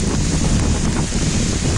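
Cyclone Nisarga making landfall at Alibaug, its gale near 100 km/h roaring over high sea waves beside a rocking ship, as a continuous loud broadband rush of wind buffeting the microphone with churning surf underneath for the whole moment, with no voices.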